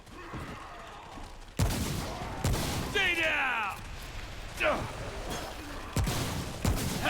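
Several loud, sharp gunshots from a weapon in Remnant: From the Ashes, spaced a second or so apart, with shrill creature-like cries and other game sounds between them.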